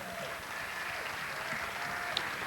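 A crowd at the 1991 Missouri Entertainer of the Year show gives Bert a round of applause, a moderate, even wash of clapping heard from a distance with a faint whistle near the end.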